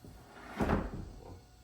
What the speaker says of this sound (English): if I want to use the new vertical door, I can get out and it opens up